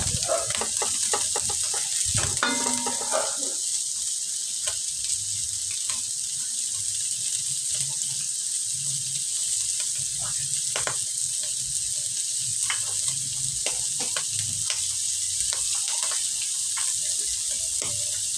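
Sloppy joe meat mixture with bell pepper sizzles steadily in a pan, a constant close hiss with scattered clicks and a brief clatter early on, no talking.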